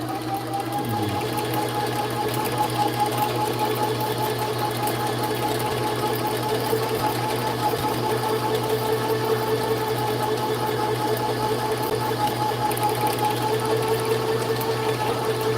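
Heavy 80 lb hollow core braided fishing line spools onto a reel with a loud, constant mechanical whir and hum that stays even and close for the whole stretch.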